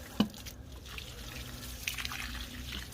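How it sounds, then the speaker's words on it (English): Water poured onto the soil around a newly planted daylily, a soft, faint trickle with a few light drips, heard alone and close. "Make sure you water it well in."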